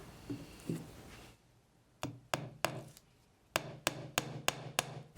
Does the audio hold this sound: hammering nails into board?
yes